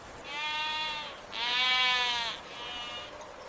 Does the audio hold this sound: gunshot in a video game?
no